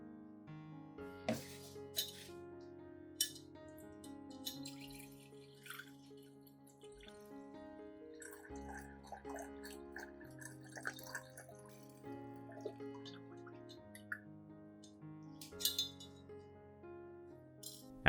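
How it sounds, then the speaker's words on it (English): Liquid is strained out of a cooled ginger infusion at close range, with scattered clinks, small drips and splashes against glass under an intermittent trickle, with no voices. "strain out all of the solids, keeping only the liquid."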